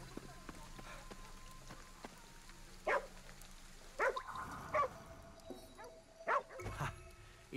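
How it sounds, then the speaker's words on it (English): Two dogs bark repeatedly in Ghostware Tokyo, a string of short yaps spread over several seconds against steady rain, with someone talking in between. "Oh, there's two dogs next to each other."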